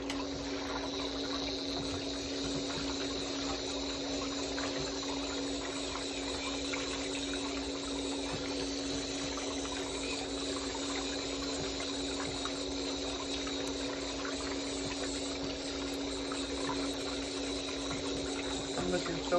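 Water hums and churns steadily in a pedicure foot bath, a constant low whirring and faint bubbling drone that stays even throughout, quiet and close.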